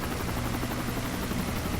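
Helicopter in the video game Call of Duty: Modern Warfare 3, a dense, steady rotor thrum filling the brief moment, loud and close.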